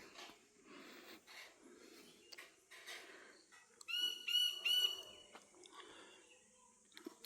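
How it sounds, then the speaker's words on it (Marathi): Birds call in a Kokan village after the first rain, a burst of clear repeated whistled notes in the middle among faint scattered chirps and rustling. "बारीतले आवाज येतात पक्ष्यांचे."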